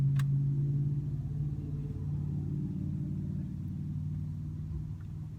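Heard from inside the car, its engine gives a low, steady rumble that stays fairly loud and even throughout, with no talking.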